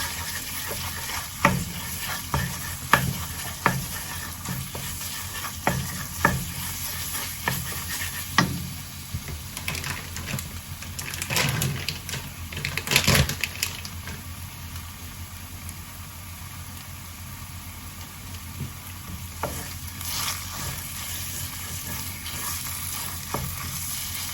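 Panang curry stir-fried in a pan gives a continuous sizzle, with repeated scraping and clanking strokes of a utensil at irregular intervals, close and moderately loud, with no talking.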